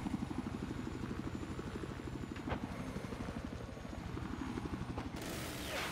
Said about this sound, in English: Helicopter currently in the air.